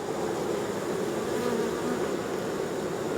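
Honey bees hum in a steady, loud, unbroken drone at an open hive with larvae-filled cells and drones present.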